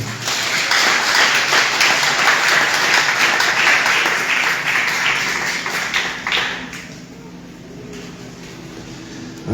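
A church congregation applauds together, a loud, dense wash of clapping that rolls on steadily for several seconds and then thins out to a quieter room tone.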